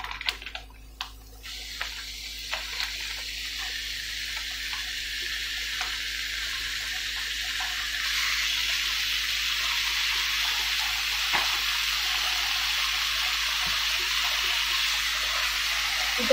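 Kimchi stir-frying in a pan for kimchi fried rice, a steady loud sizzling hiss running throughout with a few faint clicks of a utensil early on, no voices.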